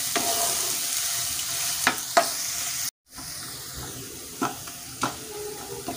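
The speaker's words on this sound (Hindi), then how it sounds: "ऑनियन थोड़ी सी फ्राई हो गई है।" Sliced onion frying lightly in oil in a pan for chicken fry masala, giving a steady close sizzle with a few sharp stirring scrapes and a brief dropout midway.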